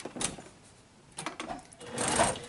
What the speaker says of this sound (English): So this is our outer fabric, and we're just going to sew our elastic on.